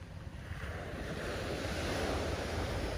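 Waves wash onto a black sand beach in north Lombok, a steady surging roar of surf close by, with gusty wind buffeting over it and no voices.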